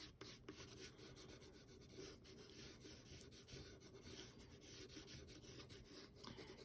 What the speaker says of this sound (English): So I'm going to go back, do some more pencil on here.